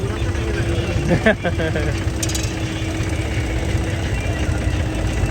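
A 4x4 tractor engine idles with a steady low rumble throughout, while a voice speaks briefly over it.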